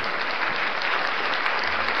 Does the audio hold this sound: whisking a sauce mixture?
no